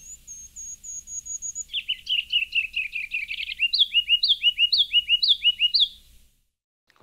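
Ruby-crowned kinglet song: a few very high, thin notes give way to a run of rapid, bouncy chattering phrases repeated many times, clear and fairly close, with no other sounds.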